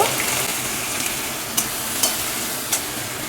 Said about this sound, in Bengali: চিংড়ি মাছগুলো তেলে দিয়ে দিলাম চিংড়ি মাছটা একটু ভেজে নিয়ে নেব